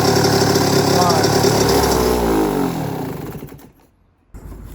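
A vintage Suzuki RM125 motorcycle engine runs steadily, its pitch sweeping as it shifts through gears, then drops away nearly to silence before catching again.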